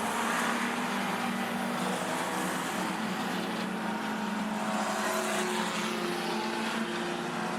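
Fender Bender race cars roar continuously around the Rockhampton Speedway track. Engines blend into a loud, sustained drone that stays fairly even throughout, heard without any talking.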